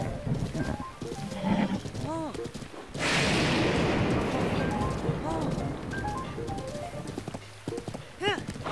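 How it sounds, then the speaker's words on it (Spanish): Horse hooves clip-clop at a gallop through Breath of the Wild, with a few sharp neighs and whinnies rising over steady game music and a burst of rushing noise midway, while someone talks over it. "este caballo va bastante rápido"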